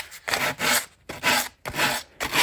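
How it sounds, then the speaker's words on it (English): Hand sanding the edge of a small round wooden table with an old sheet of 150 grit sandpaper, rubbing at an angle: five close, rhythmic rasping strokes, each a loud scratchy burst with brief pauses between. "I'm just sanding off the edges here."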